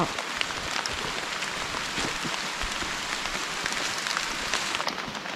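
Heavy rain pours steadily in a highland mountain forest, a dense continuous hiss of drops striking leaves and ground, close and unbroken throughout with no voices.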